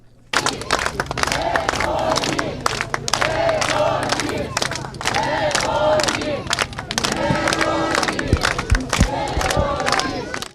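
Crowd in Zhytomyr greeting returning paratroopers of the 90th battalion, 81st air assault brigade: loud, dense cheering and shouting with scattered clapping, close and sustained, with voices mixed through the crowd.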